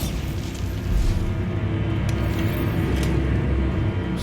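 A Bombarda explosion spell in the video game Hogwarts Legacy lets out a low, rumbling boom that swells after a second and lingers as a heavy roar, with faint sharp pops near the end.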